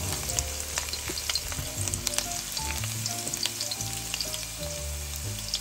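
Garlic sizzles and fries steadily in hot cooking oil for seafood pancit canton, a close, continuous crackle with occasional stirring clicks and scrapes.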